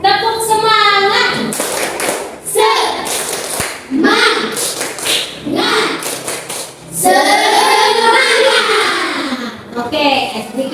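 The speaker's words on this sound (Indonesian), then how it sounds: "Kita tepuk semangat dulu." A school class chants in rhythm and claps in bursts, led by a teacher. The group voices are loud and close, with the claps mixed into the chanting.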